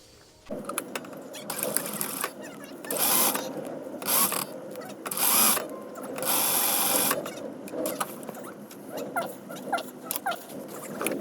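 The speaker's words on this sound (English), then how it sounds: "so now I can start sewing the darts" A sewing machine stitches darts in fabric in several close bursts of rapid mechanical whirring, separated by short pauses and soft handling noises.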